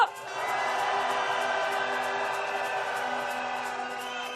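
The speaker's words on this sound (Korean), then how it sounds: "우리 김한봉이 선생님께 다시 한번 박수 보내주십시오" Crowd at an outdoor candlelight rally in front of the Japanese embassy applauding a speaker, a sustained wash of clapping and faint cheers that holds steady at moderate distance for several seconds.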